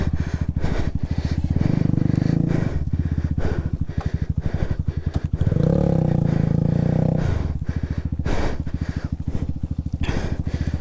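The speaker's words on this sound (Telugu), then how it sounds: "ఈ రోప్ కట్టి ఇప్పుడు రోప్తో ఈ ఎక్స్ప్రెస్ని బయటికి లాగాలన్నమాట." A Hero Xpulse 200 motorcycle engine runs while being towed out by rope tied to a Himalayan 450, a close, loud rhythmic thumping idle that swells into revving bursts twice, with no talking.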